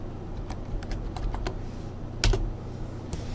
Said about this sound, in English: now let's just type.